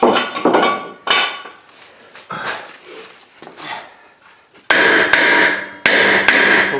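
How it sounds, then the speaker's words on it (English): A hammer strikes a corroded rear brake rotor on a 2014 Nissan Rogue, several sharp metallic smacks, loud and close, the last blows heaviest with ringing between them. "Hopefully a couple smacks here with the hammer."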